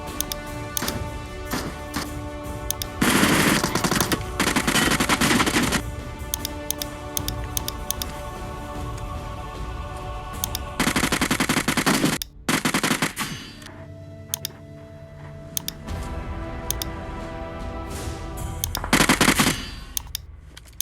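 Rapid automatic gunfire from the PUBG Mobile video game played on a PC comes in several loud bursts, mixed with sharp single shots and clicking keyboard or mouse taps between them.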